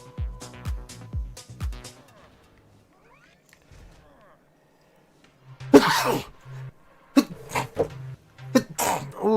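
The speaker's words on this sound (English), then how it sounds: "Ooh, man, that's some good sneezes." A person sneezing several times in quick bursts, then a pause, then louder sneezes and throat sounds close to the microphone, with a voice speaking briefly at the start.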